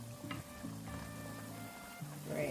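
Secret-recipe chicken sizzling steadily in a pan after being flipped, a soft continuous fry with faint scraping, no voices.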